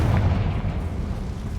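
A Confringo spell explosion in the video game Hogwarts Legacy, a single deep booming blast that rumbles and fades over a second or so.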